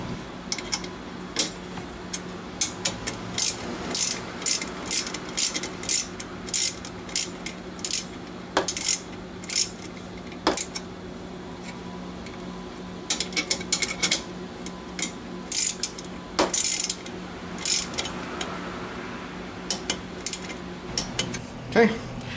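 Engine bolt being tightened to 12 foot-pounds, heard as a close series of sharp metallic ratcheting clicks and clanks in irregular bursts, with a faint steady hum underneath.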